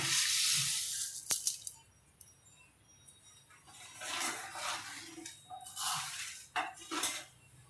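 Metal clinks against a pot as milk and sugar are stirred together, a few sharp taps followed by softer swishing scrapes, close and fairly quiet, with no voices.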